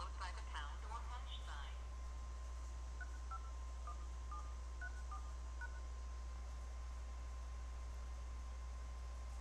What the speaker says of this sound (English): I'm just getting dialed into the Meet Me line.